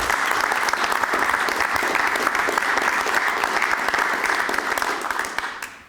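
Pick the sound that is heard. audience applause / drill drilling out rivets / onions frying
audience applause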